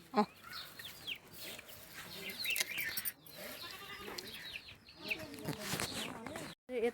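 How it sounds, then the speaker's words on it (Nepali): Chickens cluck and squawk in a backyard kitchen garden with corn: scattered, close calls rise and fall throughout, with a voice briefly mixed in. "अब कुखुराहरू हेर्नु, यहाँ भरेर केही बाँकी छैन। अब जा भनेको मान्दैनन् कुखुराहरू पनि"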